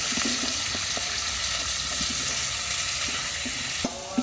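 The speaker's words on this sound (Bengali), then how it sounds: "তেল পেঁয়াজের সাথে নোড়ালিশগুলো কিছুক্ষণ ভেজে নেব" Pieces fry in hot oil with onions in a pan, a continuous close sizzle and crackle with a few small pops and a brief utensil clatter near the end, no talking.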